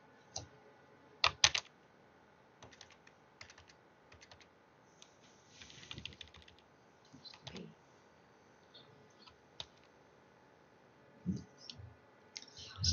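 Computer keyboard typing during an office software session, in quiet, scattered bursts of clicking keystrokes with pauses between, fairly close and soft.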